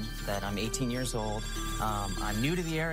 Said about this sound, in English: now the phone is ringing right now because of just this ad